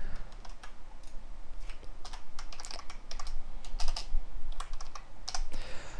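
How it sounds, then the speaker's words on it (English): Steady typing on a computer keyboard while code is entered, a rapid run of light clicky keystrokes in irregular bursts, close and fairly clear with no voices. "I'll go ahead and type all this out so you can see what I mean"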